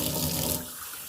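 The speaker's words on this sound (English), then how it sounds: "3 cups of cold water" Cold water runs steadily into a measuring cup while stuffing is being made, a broad rushing pour that is strongest for about half a second, then thins and quiets.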